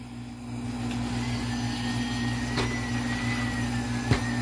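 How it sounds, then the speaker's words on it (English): Household vacuum cleaner running steadily at home during daily cleaning, a constant motor drone with a faint whine and a couple of brief bumps, no talking. "Hey, you go vacuum up over there."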